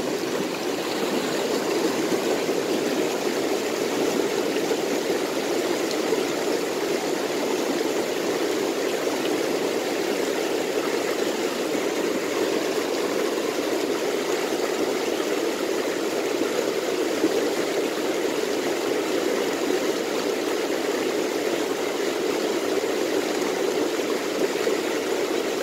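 Steady broadband rush of flowing river water at a riverside fishing spot, continuous and fairly loud throughout, with no talking.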